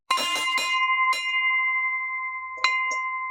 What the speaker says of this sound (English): here's a video of me playing the cowbell just to show you